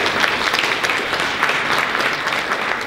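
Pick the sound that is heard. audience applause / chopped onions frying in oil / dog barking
audience applause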